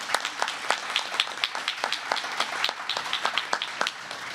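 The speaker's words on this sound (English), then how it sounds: "Give yourselves a round of applause." Sixteen new citizens at a citizenship ceremony give themselves a round of applause: a small group's crisp, close clapping in a lively, uneven patter that keeps going throughout.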